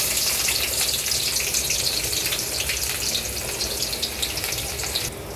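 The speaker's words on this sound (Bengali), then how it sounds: "এখন ভেজে নিব যে পর্যন্ত লাল না হয়" Onions and chilies fry in a hot pan, a steady dense sizzle with crackling that holds loud and even throughout, dropping slightly in the final moment.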